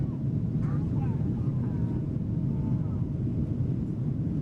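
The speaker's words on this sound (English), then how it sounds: "So that little bit of wind noise, it's just, I guess, how it is in this airplane." Steady low wind noise inside the PMDG 737-800 cockpit in Microsoft Flight Simulator 2024, a constant dull rumbling hiss with no breaks, sitting under faint background sounds.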